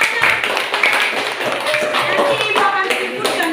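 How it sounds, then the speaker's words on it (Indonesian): Classroom of students clapping together for group 1, a burst of brisk, uneven hand claps that stays lively for a few seconds, with voices mixed in. "Oke, tepuk tangan di kelompok 1."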